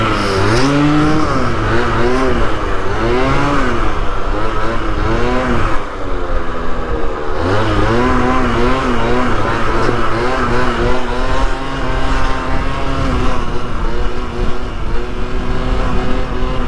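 Motorcycle engine revving hard during a wheelie stunt, loud and close, rising and falling in pitch through repeated throttle blips and sustained high revs without a pause.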